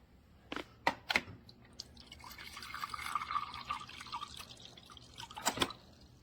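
Water from a Samsung refrigerator dispenser runs through a new Samsung fridge water filter, with a few sharp drips at the start and a steady trickling pour in the middle, close and fairly quiet.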